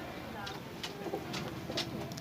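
A Kalsire Rampuri high-flyer pigeon at home gives soft, repeated coos in short bursts, heard up close while someone talks over them.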